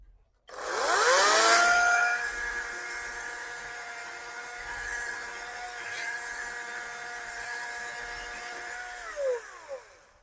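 A Dong Cheng 40V MAX brushless cordless chainsaw with a 16-inch Oregon bar spins up with a loud whine and then cuts wood in a steady, sustained buzz before winding down, close by and heard on its own.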